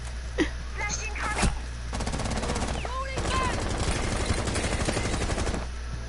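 Rapid automatic gunfire from a shooter video game crackles in dense bursts through most of the stretch, with a couple of sharper single shots early on and game effects mixed in.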